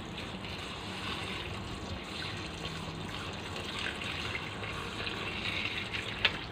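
Tap water runs steadily over spinach and kangkong being washed in a kitchen sink, a continuous close splashing and trickling with a brief louder splash near the end.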